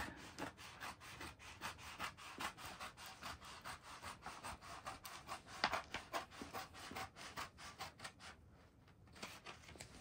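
Scissors or a blade cut through Alcantara fabric during interior wrapping on a 2019 Acura ILX, giving a steady run of soft, rhythmic rasping strokes, fairly quiet and close, with no talking.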